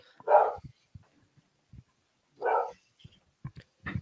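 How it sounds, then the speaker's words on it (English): A dog barks in separate bursts: two loud, full barks near the start and middle, then a few shorter yips toward the end, with soft thumps and small noises in between, close by indoors. "Apologies for my dog again."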